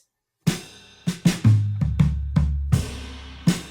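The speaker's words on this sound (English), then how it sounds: "let's listen to what the overheads sound like" A drum kit heard through overhead microphones, with sharp hits on kick, snare and cymbals ringing out in an uneven groove, roomy and bright.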